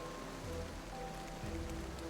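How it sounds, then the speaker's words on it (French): Heavy rain pours down in a steady, dense wash with no pauses, with faint tonal sounds in the background. "il pleut des cordes"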